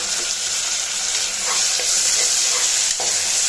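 Chopped medium tomatoes and onions sautéing in a hot pan, a loud, dense, continuous sizzle close by, with a few soft stirring knocks.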